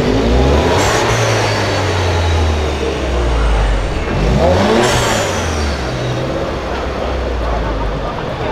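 Car engine revving hard as the car pulls away in front of a police car, a loud rising roar that climbs, drops and climbs again, close, with passengers talking over it.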